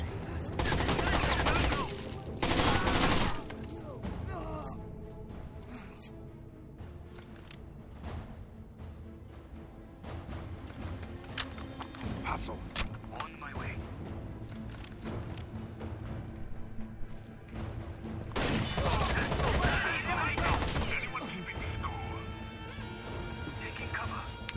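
Gunfire in a video game as red explosive barrels are shot, with loud bursts of shots and crashing blasts over continuous game noise, mixed with talk.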